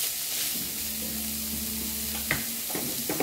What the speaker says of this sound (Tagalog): Kaya, imimix natin ulit.